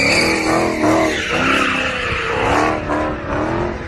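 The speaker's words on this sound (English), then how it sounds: "This car was drifting alone on an empty road at night." A car drifting alone on an empty road at night gives a loud, continuous engine roar with shifting tire squeal that rises and falls through the whole stretch, with no voices.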